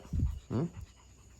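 A puppy pants in two short, close bursts of breathy huffing, then falls quiet.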